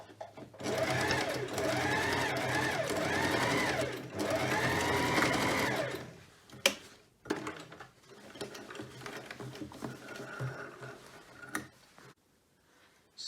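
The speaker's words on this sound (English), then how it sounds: "So we're just going to do a little straight stitch down just to keep that together." A sewing machine runs a straight stitch through denim jeans, whirring loudly and steadily for about six seconds, then quieter mechanical clicks and handling noises follow.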